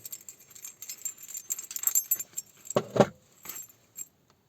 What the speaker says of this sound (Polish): Są również jakieś klucze, też zaraz sprawdzimy, czy to jest mosiąc.